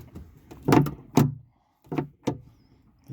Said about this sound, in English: So when you plug that where it's meant to be, it will open the door.